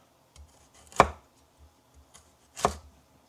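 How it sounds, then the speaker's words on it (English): Cleaver chopping carrots into matchsticks on a board, two sharp prominent knocks about a second and a half apart with a few lighter taps between, no voices. "So I'll just chop up the carrots."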